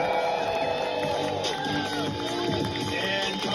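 A crowd on an open plain cheers for a descending parachute jumper, a dense, continuous roar of whoops and shouting voices that holds at a loud level for the whole moment.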